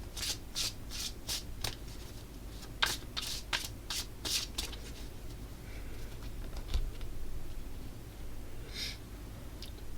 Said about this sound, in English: we can shuffle this